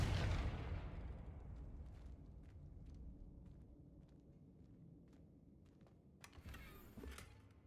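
A Confringo fire spell bursts in Hogwarts Legacy with a loud, booming explosion that rolls away over several seconds, followed by softer crackles and a second, smaller burst near the end.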